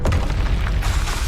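A Confringo spell blast in the Hogwarts Legacy video game, a single loud booming burst with a rumbling low tail lasting about a second.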